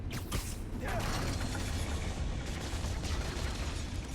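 A giant spinning fan in the Spider-Man Miles Morales video game gives a loud, dense mechanical roar with rattling and whooshing that sounds alone and churns on without a break.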